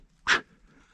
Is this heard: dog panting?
yes